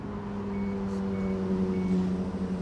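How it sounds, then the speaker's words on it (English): Ferrari 458 sounding a steady electronic beeping tone as its ignition is switched on, a continuous chime under a low cabin hum, close and moderately loud, with no talking. "You get the good old Ferrari beeping."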